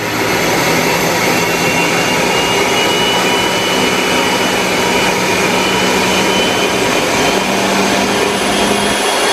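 A turbomachine in a university lab runs at about 18,000 RPM, giving a loud, constant broadband roar with a steady high whine, unbroken for the whole stretch and with no voices.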